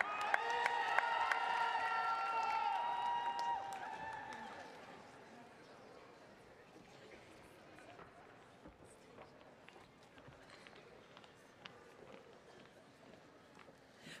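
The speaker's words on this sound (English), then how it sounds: "Please join me in an extra loud round of applause for the Masters of Arts Management graduates" A graduation ceremony crowd bursts into applause and cheering with shouts for the Master of Arts Management graduates, loud at first, then thinning after a few seconds into scattered clapping and murmur.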